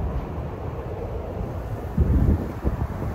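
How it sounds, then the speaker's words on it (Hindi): Wind blowing at Sydney Harbour, a steady rushing roar buffeting the microphone, with a few heavier low gusts near the end, loud and continuous without talk. "बहुत अच्छी हवा चल रही है"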